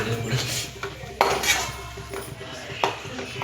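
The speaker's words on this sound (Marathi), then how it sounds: "झाकण ठेव." A lid set down on a clay cooking pot of homemade ghati masala chicken, cooked without gas or oil, gives a few sharp ceramic clinks and knocks amid a low kitchen background, with no talk.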